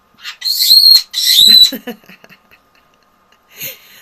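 Nanday conure parrots indoors let out two loud, shrill screeching calls back to back, followed by a few quieter chirps and a short squawk near the end, with no talking.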